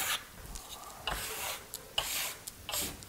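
Steel trowel burnishing a Marmorino lime plaster wall in classic Bernini style, giving a series of soft, raspy rubbing strokes with a few sharper scrapes, close and fairly quiet, with no talking.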